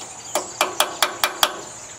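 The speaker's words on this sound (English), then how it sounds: "now all I gotta do is go around the edge and peen" Six sharp, evenly spaced metallic hammer strikes ring out close by as the aluminum edge of a Briggs tractor part is peened over during a field repair.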